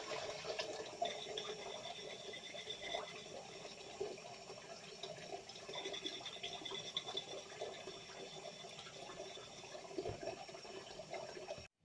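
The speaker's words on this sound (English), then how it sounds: "This is me doing the washing up." Water runs steadily from a tap while dishes are washed up, with soft scraping and clinking mixed into a continuous splashing hiss that stops abruptly at the end.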